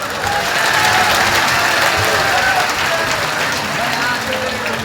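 Loud, sustained applause from a large crowd at a religious gathering at Bageshwar Dham, with steady, dense clapping running through the whole stretch and voices mixed in.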